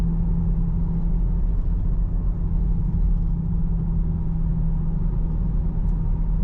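A Chevrolet Camaro SS in manual shift mode drives under acceleration, heard from inside as a steady, moderately loud low engine drone with no distinct gear changes.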